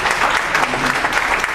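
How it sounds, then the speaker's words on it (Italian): Brief burst of crowd applause at an event on a cruise, dense, close clapping from many hands filling the short moment. "Un applauso a Raffaele Speranzona."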